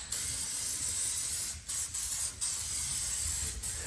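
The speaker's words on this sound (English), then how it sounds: "I'm going to finish off with this John Deere paint here, right here." An aerosol can sprays John Deere paint as a heavier final coat on an LA165 John Deere lawn tractor, a loud continuous close hiss broken by a few brief pauses between passes.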